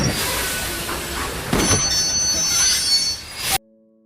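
A train brakes to a sudden stop in a film scene: loud metallic wheel squeal and rumbling rail noise that swells midway, then cuts off abruptly into near silence.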